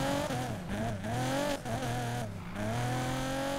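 Ford GT with a widebody build in Need for Speed Payback: loud engine revving and shifting through gears, pitch climbing then dropping several times, close and alone without talk.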